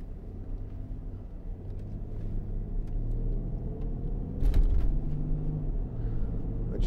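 A 2015 Range Rover 3.0 TD V6 Vogue SE automatic pulls away on a busy road, its diesel engine a steady low rumble that swells as it accelerates, with a brief louder surge midway and no talking.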